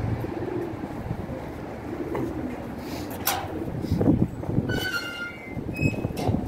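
Tumbler pigeons cooing inside a coop, soft repeated low coos against a noisy, rumbling background, with faint talk in the distance.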